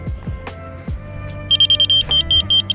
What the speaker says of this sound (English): there's two different beeps. Fast and slow